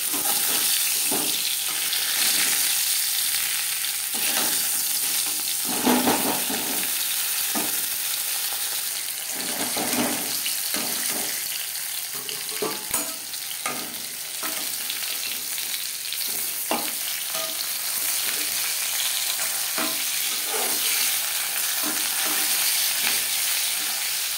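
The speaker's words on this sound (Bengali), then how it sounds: "একটা সাইড ভাজা হয়ে গেলে অপর সাইডটা উল্টে দেবো।" Bata fish fries in cooking oil with a constant, close, hissing sizzle and scattered pops that continue for over twenty seconds, with no talking.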